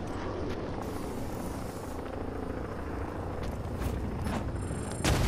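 Serpent drone from Batman: Arkham Knight flying nearby, a steady rotor-like mechanical drone holding level throughout with a few brief whooshes and a bump at the end.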